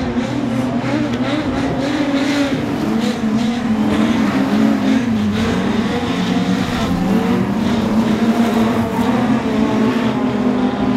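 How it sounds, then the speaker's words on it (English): Production sedan race cars lap a racetrack, their engines forming a loud, continuous layered roar with rising and falling pitch as cars accelerate and pass. "Still 5 laps to go in production sedans."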